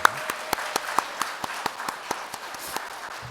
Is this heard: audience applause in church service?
yes